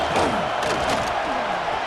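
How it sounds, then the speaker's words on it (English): Dense, continuous roar of a stadium crowd in a college football video game, with loud, sustained cheering and no breaks. "Listen to the crowd energy here in the early going."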